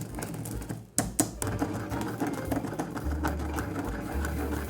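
A pepper mill grinds black peppercorns in a kitchen, giving a steady, close mechanical rasping that runs throughout with a few sharper cracks near the start.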